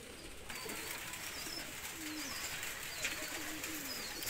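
Pigeons indoors with rain outside, cooing in soft repeated low phrases at close range over a steady hiss of rainfall.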